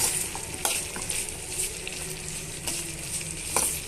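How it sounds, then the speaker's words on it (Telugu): Garlic cloves and other ingredients fry in a pan for a green chilli chutney, giving a steady close sizzle broken by occasional scraping stirs, with no voices. "ఇవన్నీ వేసి బాగా వేయించేసుకోండి"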